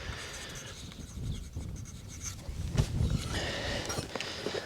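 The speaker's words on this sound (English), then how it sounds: "I'm going to make a mark, and then I'm just going to write on here grade board." A mark is written on a 2x12 lumber grade board at a post frame home build: soft, scratchy pencil strokes close by, over steady outdoor background noise with no talk.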